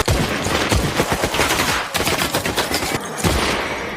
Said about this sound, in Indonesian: mereka langsung menembakkan senjatanya masing-masing